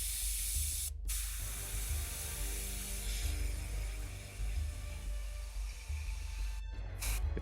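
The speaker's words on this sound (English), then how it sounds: "I have to let my airbrush run just a little bit to let the regulator catch up" An airbrush on a single regulator sprays thin orange paint onto a lava-style miniature base, giving a steady loud hiss that runs for several seconds with brief breaks at the start and end.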